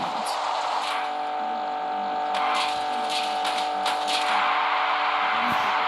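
A BMW's engine drones steadily at high speed, a constant loud roar with road noise throughout.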